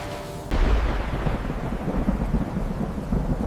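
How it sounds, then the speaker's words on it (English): A thunderstorm with heavy rain breaks in suddenly as a loud, deep roll of thunder. A steady, dense downpour continues underneath, close and loud, with no voices. "the storm is getting worse"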